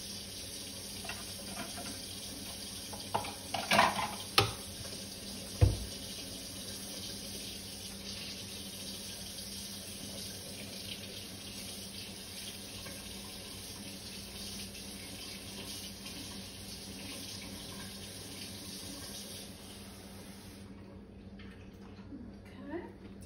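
Hot water runs steadily from a tap into a cup for about twenty seconds, with a few clinks early on, before the flow cuts off.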